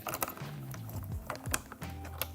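The canister of a Dräger BG ProAir breathing apparatus clicks into place with a few crisp, close plastic clicks and some handling rattle, and a low hum runs underneath.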